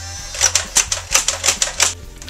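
Buzz Bee Mech Tommy 20 toy dart gun firing semi-auto: about eight sharp mechanical clacks in an uneven rapid rhythm, close and fairly loud over a low motor hum.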